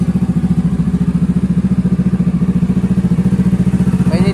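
A Kawasaki Z650 motorcycle idles through a cold-start warm-up, its engine pulsing in a steady, even rhythm close to the microphone, with a brief clatter right at the end.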